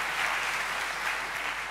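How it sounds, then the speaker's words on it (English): Audience applause after a lightning talk at a Python conference, a dense steady wash of many hands clapping together, moderately loud and even for its brief length with no talk over it. "let's give her a big round of applause"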